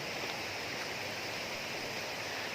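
A clear river stream flowing through a forest, heard as a steady, soft broadband rush of running water, continuous and fairly distant, with no voices.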